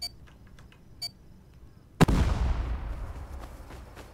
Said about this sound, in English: Yeah, that was a big explosion, wasn't it?